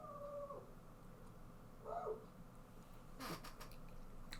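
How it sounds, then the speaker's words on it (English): A dog named Darby barks from outside, a few distant, muffled yelps and howl-like calls spread across a few seconds, faint under room tone. "barking outside"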